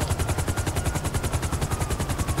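Helicopter in GTA 5 Online: a steady, fast rotor chop with rhythmic pulsing beats running through the whole stretch, fairly loud and close, with no talking.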